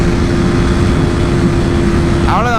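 KTM RC 200 BS3 motorcycle riding at speed, a loud, steady engine drone mixed with heavy wind rush close to the rider, with a brief voice rising near the end.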